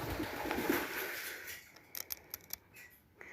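A pet bird coos faintly and low near a birdcage under soft room hiss, followed by scattered light clicks and rustles.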